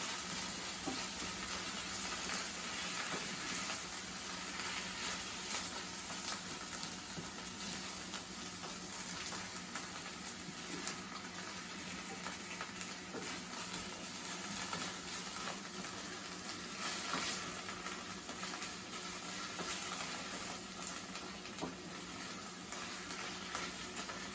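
A melted cheese mixture sizzles softly in a pan on low heat while it is stirred, a steady faint crackling hiss that runs on evenly with tiny pops, no voices.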